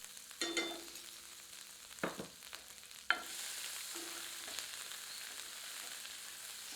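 Oil sizzles and crackles steadily as crushed ginger, garlic and green chilies hit the pan, with a few sharp stirring scrapes and a louder burst of frying partway through.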